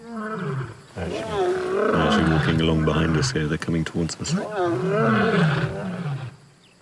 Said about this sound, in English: off in the distance, he hears a familiar roar